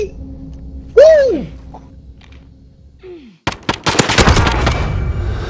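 Gunfire in the video game Call of Duty: Modern Warfare, where a couple of whistling, sweeping game sounds give way to a loud close burst of rapid shots and rattling fire that runs to the end.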